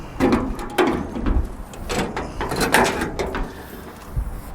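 A cabinet drawer on a Ford F550 service truck slides open with a series of metallic clunks, rattles and scraping slides, several distinct knocks spread across a few seconds, close and fairly loud.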